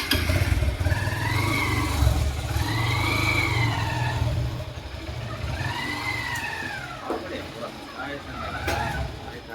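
A motorcycle engine runs steadily nearby, its drone filling the background, while people talk and call out over it.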